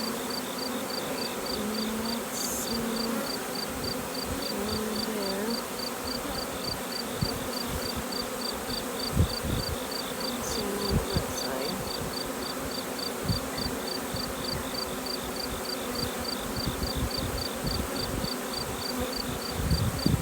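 A swarm of honey bees buzzes around a hive box, a dense, continuous drone close by that holds steady throughout, with occasional handling knocks and no talk.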